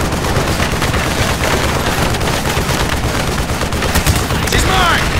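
Machine gun fire in the Call of Duty Black Ops video game, a dense, continuous crackle of rapid shots throughout, close and loud, with a few sharper bursts near the end and no speech audible.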